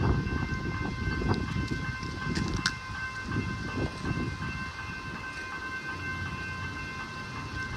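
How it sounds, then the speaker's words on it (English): A train approaching the Boundary Road level crossing in Melbourne's northern suburbs, near Fawkner station, with a steady rumble and rail noise throughout, faint crossing bell or siren tones above, and no talk. "And the train's coming."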